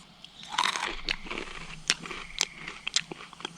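Crunchy bites and chewing of a s'more by a campfire at a Minnesota state park campsite near sunset, several close, crisp crunches in an uneven rhythm with no talking.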